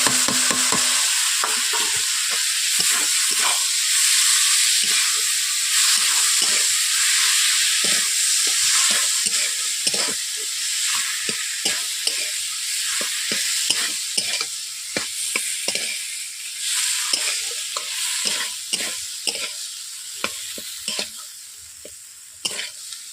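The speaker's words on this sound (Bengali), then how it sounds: "এরপর সেদ্ধ করে রাখা সবজিগুলোকে আমি দিয়ে দিচ্ছি, এভাবে আমি ফুটিয়ে নিচ্ছি" Boiled beans, potato, brinjal and carrot cooking down in a spiced masala in a pan, a close hissing sizzle under repeated sharp stirring scrapes and taps that continue steadily and thin out toward the end.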